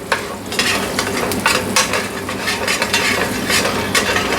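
Sliced garlic crackles busily in a hot pan just taken off the heat, a close, dense sizzle mixed with stirring and the light scrape of a utensil.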